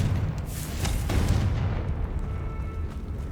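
Confringo blasting spell from Hogwarts Legacy, a loud booming magical explosion with a sharp initial burst and a rumbling decay over a few seconds, heard alone.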